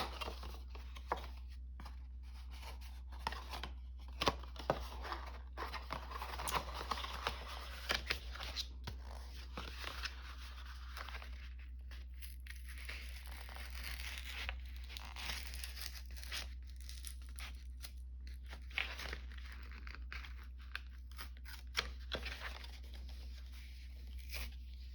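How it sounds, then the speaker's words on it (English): Cardboard box being cut down: intermittent scraping, tearing and crinkling of the cardboard, fairly faint and close, scattered in irregular bursts over a steady low electrical hum. "Cut down this box."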